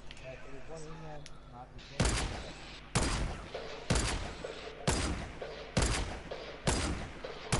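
Repeated gunfire bursts in the video game Fortnite, aimed at a building, crack out loudly at roughly one-second intervals, with bits of talk earlier.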